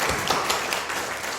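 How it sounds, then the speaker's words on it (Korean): A church congregation in Namyangju claps during a Parents' Day Sunday service, a short burst of scattered hand claps at moderate loudness, fairly close and unaccompanied by talk. "다시 한번 박수 치겠습니다."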